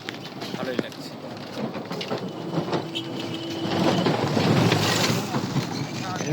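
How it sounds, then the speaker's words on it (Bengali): Steady rain falls beside the Someshwari river, a continuous hiss that swells slightly toward the middle and holds close and even throughout. "বৃষ্টিটা দারুণ করছে তাই না?"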